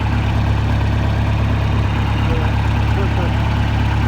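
Farm tractor engine idling steadily with a low, continuous rumble and vibration, close by and unchanging, beside a pasture during fence repairs and hay feeding for cattle.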